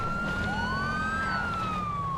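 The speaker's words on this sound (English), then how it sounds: "killing my primary siren" A police car siren wails steadily and loudly over heavy road and engine rumble, its pitch sweeping in long rising and falling tones during a narcotics takedown pursuit.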